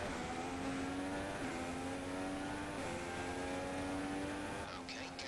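An F1 race car in the F1 2016 racing game, its engine whining steadily and rising in pitch through repeated gear shifts, loud and continuous with a faint voice underneath.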